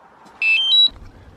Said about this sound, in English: Then you're gonna wanna power on your controller.